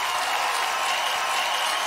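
Loud audience applause for a comedy music band at a roast show, a dense, steady wash of clapping filling the whole moment with no break.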